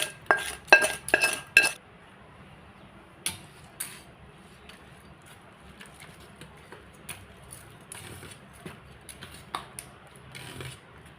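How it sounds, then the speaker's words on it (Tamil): A spoon stirs curd vermicelli in a dish just after tempering is added, opening with several sharp clinks and scrapes, then settling into quieter scattered taps and soft stirring strokes. "தாளிப்பை சேர்த்து நம்ம ஒரு கிளறி விட்டுறலாம்."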